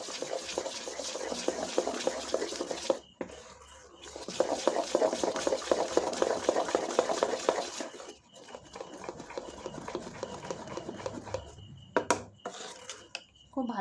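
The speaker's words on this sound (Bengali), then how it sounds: "এবার সব কিছু দিয়ে খুব ভালো করে একটু এভাবে মিশিয়ে নেব।" Spices are stirred into a rice and lentil batter with a utensil, giving wet scraping and clattering against the bowl in bursts, with a few short pauses and light kitchen clatter.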